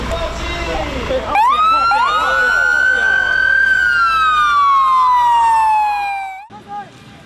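Fire engine siren wailing loudly and close at a fire truck launch in Tainan, one long rising-and-falling tone held for about six seconds before cutting off abruptly.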